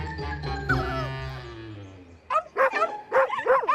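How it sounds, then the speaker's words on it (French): Small dogs yap and whine in quick, high-pitched bursts, preceded by a long descending howl-like whine. "Vous entendez? Ce sont les autres petits chiens."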